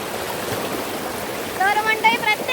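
A river stream flowing through a village landscape makes a steady, loud broadband rush throughout, with a brief higher-pitched sound cutting in near the end.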